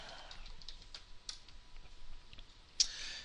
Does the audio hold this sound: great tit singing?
no